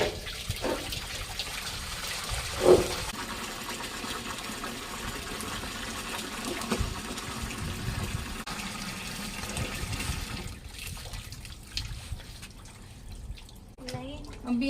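Raw mangoes being washed in water in a village kitchen in Punjab, with steady splashing and dripping and a sharp knock near the start, under someone talking throughout.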